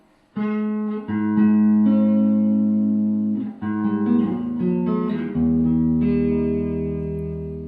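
An electric guitar plays ringing chords through a Mesa Boogie Blue Angel 4x10 tube amplifier with 6L6 tubes on its American-voiced circuit, each chord loud and sustained before the next one changes.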